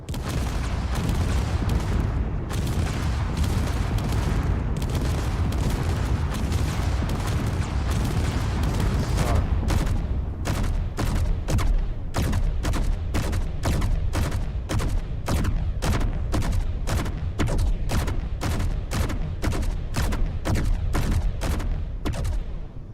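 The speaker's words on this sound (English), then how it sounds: "Let's hit him with some shotgun rounds" Dense, loud bursts of gunfire in the space-building game Space Engineers: a heavy, continuous barrage gives way to a steady rhythm of sharp, evenly spaced shotgun blasts, close and booming, with no voices.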